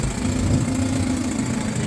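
A steady, low engine idle from a circa-1979 Lotus Elite rumbles on without a break at a classic car show, close by and even in level, with no voices over it.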